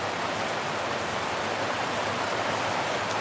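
Steady, dense hiss of heavy rain pouring down, an unbroken wash of sound with no voices.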